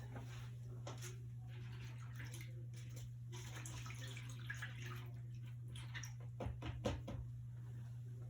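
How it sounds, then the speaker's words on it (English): Items being dipped into a water bath make soft sloshing and dripping sounds with light knocks and clatter against a steady low electrical hum. "I'm gonna go ahead and put this into my water bath."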